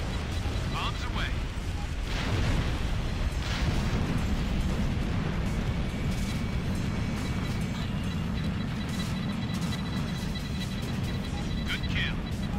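Bombs exploding in Ace Combat Infinity, a heavy rolling rumble of blasts that swells after a couple of seconds and stays dense and loud, with a few higher crackles on top.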